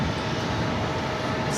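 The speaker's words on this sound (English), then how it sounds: "Flight heading to SFO. Actually, it's the old Mint, not the Suites, but just the Mint. That A321." An Airbus A321 jet airliner departing JFK for SFO gives a steady, loud broadband engine roar with no break or change across the short stretch and no voices.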